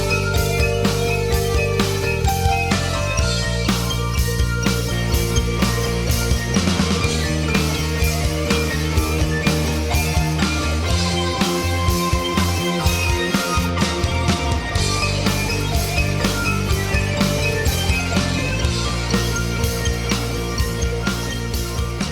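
Nintendo game music from 1986 plays throughout, with a loud and steady chiptune melody over a bouncing bass line and rhythmic percussive blips.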